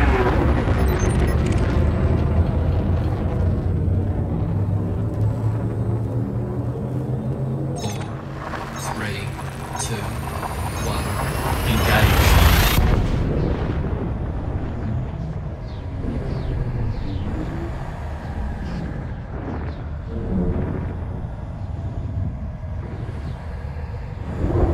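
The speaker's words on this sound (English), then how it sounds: "Frameshift drive charging." A spaceship's frameshift drive in a video game charges with a rising, layered electronic hum and whine. It swells into a bright surge and jump, then settles into a lower rumble, and a synthetic voice talks at times.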